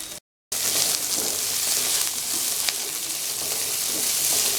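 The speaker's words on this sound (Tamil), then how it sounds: "நாம் கட் பண்ணி வச்சுருந்த வெங்காயம், பூண்டு எல்லாம் சேர்த்து வதக்கணும்." Chopped onion and garlic saute in a pan for brinjal curry, a dense, close sizzle that stays steady after a brief silent gap at the start, with no voices.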